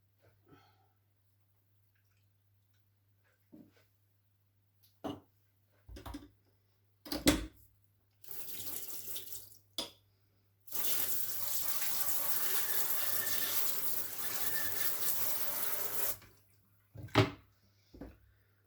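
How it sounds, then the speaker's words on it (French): Thick chocolate Danette dessert cream poured from a mixing bowl into small pots, a long continuous pouring stream preceded and followed by brief clinks and knocks of the container, fairly close and moderately loud. "vous versez directement votre danette dans les pots"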